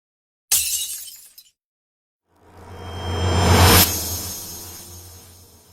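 A glass pane shatters, broken by something thrown from outside, in a sudden bright crash with falling shards, then after a pause a swelling rumble and whoosh that builds and fades away.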